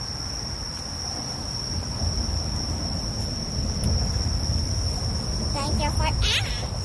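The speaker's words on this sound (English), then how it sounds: "The crickets are scaring me." Crickets chirp on a walk near Incheon's Unseo Station, a continuous high, thin trill that runs steadily throughout over low street and traffic rumble, with brief bird-like chirps near the end.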